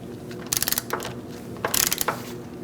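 A ratchet loosens a front strut bolt on a Chevrolet Cruze, two quick bursts of sharp clicking a second apart, close and clear over a quiet garage background.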